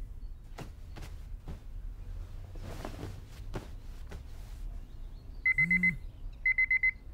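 Two short bursts of a phone alarm beep in quick repeated pulses after quiet room sounds and a few soft knocks, the tone bright and fairly clear.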